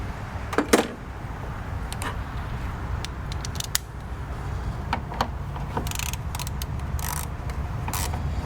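A Honda Accord's 10 mm radiator screws are worked loose by hand, giving scattered small metallic clicks and ratcheting ticks at irregular intervals over a low garage hum, close up and fairly faint.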